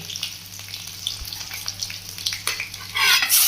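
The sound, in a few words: mustard seeds and garlic frying in oil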